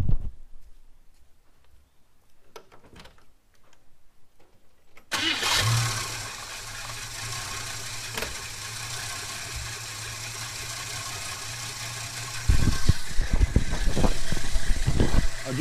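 A Holden HK wagon engine with a Holley carburettor cranks and fires after a few seconds of quiet clicks, then settles into a steady low, slightly fluttering idle, with louder revving near the end.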